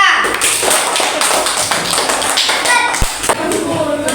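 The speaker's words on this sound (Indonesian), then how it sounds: "Tepuk tangan untuk kelompok 3" Children in a classroom clap for a student group after a lesson on plant parts, a dense, steady patter of small hands lasting throughout, with a few louder taps and thumps mixed in.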